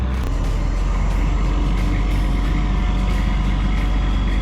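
A truck delivers the first load of gravel to a sap house building site. Its heavy engine rumbles loud and steady throughout, with no talking.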